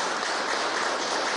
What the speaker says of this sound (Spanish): Y pido un aplauso a todo el equipo de reconocimiento a su obra